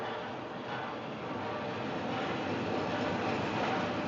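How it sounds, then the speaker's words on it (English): A train pulling into a station platform, a faint steady rumble of wheels and carriages rolling along the rails with no clear voices over it. "The train now arriving at platform 3 is the 5:43 from Ketchworth"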